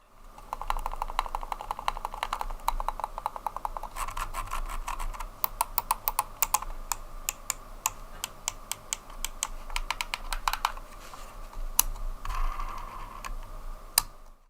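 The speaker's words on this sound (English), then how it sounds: "the two main clicks and scroll wheel are what you'll use most, the overall experience is still very quiet" Quiet clicks from a Bluetooth and 2.4 GHz wireless silent mouse, the ProClick Mini, come as soft sharp ticks at an uneven pace, sometimes in quick bursts, alone over a faint steady hiss.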